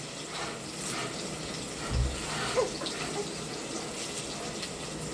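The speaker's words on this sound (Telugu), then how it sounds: "కరివేపాకు కొత్తిమీర అయితే వాటర్లో కడిగేసుకొని తీసుకొచ్చుకుంటలేదు లోపలికి." Tap water runs steadily into a sink while curry leaves and coriander are rinsed, a soft continuous trickle with a brief thud partway through and no voices.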